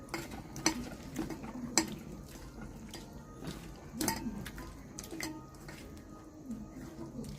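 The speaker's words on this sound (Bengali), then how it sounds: "কর্নফ্লাওয়ার দিয়ে তারপর এটাকে আরেকটু ভালো করে মিক্সড করব।" Marinated prawns are tossed with cornflour in a bowl, wet squishy stirring punctuated by sharp clinks of a utensil against the dish, close and intermittent, while hot oil faintly sizzles beneath.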